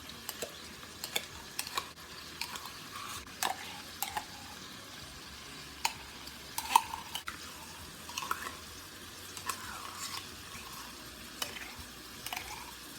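A spoon stirs tomato paste, kosher salt and white pepper together in a cooking pot, producing faint, close scraping and soft clicks against the pot at an uneven rhythm over a low steady background hiss.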